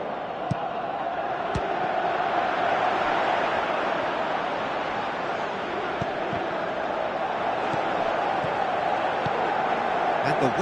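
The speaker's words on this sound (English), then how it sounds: "you can feel and hear how the crowd are reacting to all of this" A football stadium crowd in a video game roars as a dense, continuous wash of noise, with a few sharp knocks over it.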